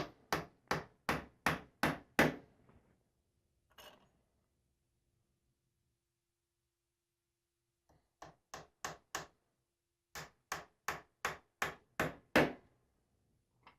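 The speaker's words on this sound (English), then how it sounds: "When I'm driving my nails, I want to start it, line it up kind of with the center of my end bar" Nails are hammered into the wooden end bar of a beehive frame holding beeswax foundation, heard as crisp quick bursts of five or six sharp taps with quiet pauses between groups.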